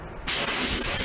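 A spray gun lays clear coat onto a Slingerland Radio King snare drum shell in hot weather, a sudden close, loud hiss that bursts on and holds steady.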